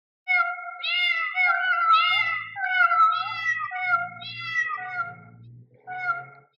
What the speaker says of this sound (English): Cats here, cats there, cats and kittens everywhere.